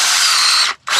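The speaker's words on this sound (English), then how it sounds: "I'm just going to drill a little pilot hole." A power drill whines steadily at close range drilling a pilot hole into wood for a doorbell mount, stops briefly, then starts up again.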